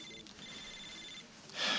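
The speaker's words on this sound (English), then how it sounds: "It's your phone." A telephone ringing indoors: a fairly faint, steady electronic ring tone that holds for about a second, then a short, louder burst of sound at the end, with no talk.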